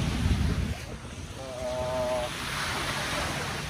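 Steady cold wind at a beach near sunset rushes across the microphone with a broad, breathy roar, joined briefly by a faint wavering tone partway through.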